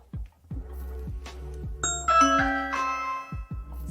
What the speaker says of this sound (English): I will start by pressing the doorbell.